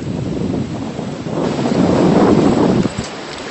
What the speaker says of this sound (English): It is freezing out here and windy